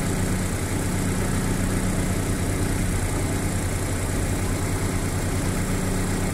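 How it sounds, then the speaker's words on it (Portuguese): The engine of a Chevrolet Blazer/S10 idles steadily, a close, loud, continuous low rumble and hum with a constant even drone and no talking. "Pra vocês verem que o motor tá ligado aqui."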